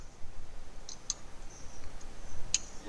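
A few sharp, isolated keyboard clicks sound during a video game, scattered at irregular moments over a quiet background hum.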